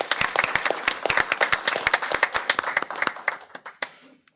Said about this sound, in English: let's give them that round of applause